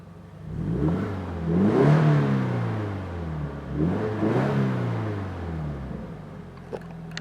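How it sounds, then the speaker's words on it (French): Toyota GT86 engine and exhaust with the valve closed, heard from inside the cabin: a low, steady drone that rises and swells twice in rev sweeps, fairly subdued, with no talking. "je vous laisse quand même écouter déjà clapet fermé depuis l'intérieur"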